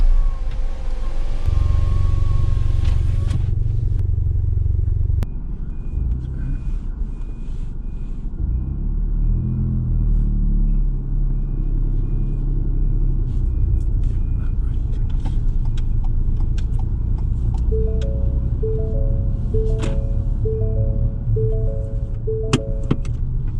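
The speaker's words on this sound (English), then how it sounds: "Let's start our engine and we'll have a drive." A car engine runs steadily while a learner driver drives on a mock driving test, a low continuous rumble with a satnav voice and a few electronic tones over it.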